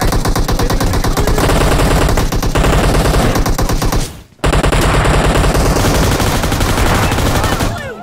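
Rapid automatic gunfire from hip firing in a multiplayer team deathmatch video game, loud and continuous with a brief gap midway, then the burst resumes.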